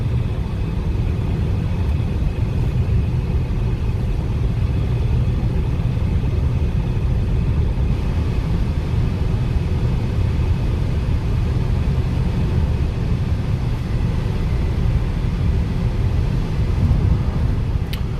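A 2004 BMW 545i V8 pulls through its gears, heard from inside the cabin as a continuous low engine rumble and road drone, steady in loudness and with no speech.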